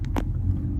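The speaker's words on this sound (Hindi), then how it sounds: "ये देखिए दोस्तों, गाड़ी आगे चलना शुरू हो गई है" A manual car pulling away as the clutch is released, giving a low, steady engine rumble close by with a faint thump near the start and no talk.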